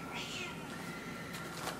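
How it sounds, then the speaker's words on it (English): A pet cat meows indoors at a home, a short call early on followed by faint clicks and small noises, with a brief knock at the very end. "I'm sorry if you can hear my cat meowing."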